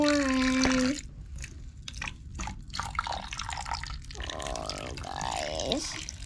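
Water pours and drips into a powdery DIY snow craft mix, a soft trickling wash with little splashes, framed by brief tonal sounds at the start and end.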